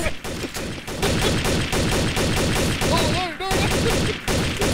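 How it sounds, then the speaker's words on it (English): Gunfire in the video game Trouble in Terrorist Town: rapid, loud, continuous bursts of shots, with voices briefly heard over them. "He's shooting me."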